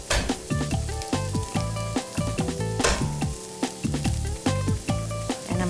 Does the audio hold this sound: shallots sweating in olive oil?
yes